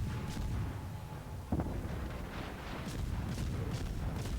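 Naval guns firing high-explosive shells in a warship video game, a steady rumbling barrage with a few distinct booms over continuous low engine and sea noise, moderately loud and without talk.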